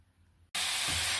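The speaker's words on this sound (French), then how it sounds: "on met à cuire les lardons, ils commencent à frémir un peu" Lardons cooking in a dry frying pan with no added fat give a sudden loud, steady hiss that starts midway and stays up, with a slight low bubbling under it.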